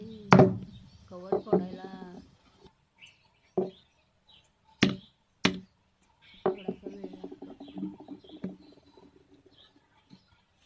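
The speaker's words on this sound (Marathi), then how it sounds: "वरती वरची साल लई जाड असत्या हे बघा या पद्धतीने मी फोडून घेतले" A thick-shelled wood apple is cracked open at home, with a few sharp, distinct knocks spaced apart between stretches of someone talking.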